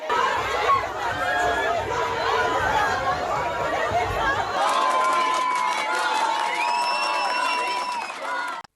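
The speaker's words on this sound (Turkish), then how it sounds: "Hayvanseverler kararı ıslık ve alkışlarla protesto etti." Crowd of animal-rights protesters reacting to a court verdict in a cat-killing case, a loud dense mass of chatter, shouts and whoops with sharp whistles rising out over the second half.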